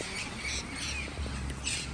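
Red-headed parrots squawk in harsh, repeated calls, several bursts in quick succession at moderate distance over a steady outdoor background hum.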